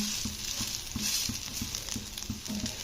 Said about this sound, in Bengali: তো এইরকম করে কিন্তু সবকটা রুটি আমি ভেজে নেব।